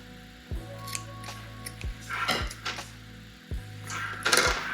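Repeated scissor snips cut through yarn while a tassel scarf is being finished, a series of crisp close blade clicks at irregular intervals with light handling rustle between them and no talking.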